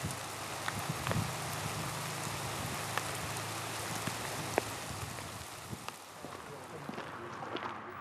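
Rain falls steadily at an archaeological excavation site, an even hiss of drops with occasional sharper taps and a faint low hum beneath.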